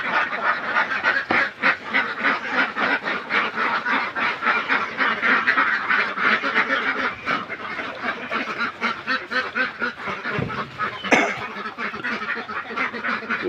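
Laying ducks kept for eggs quack loudly and continuously inside their house beside a pond, a dense, overlapping chorus of many birds with no talk.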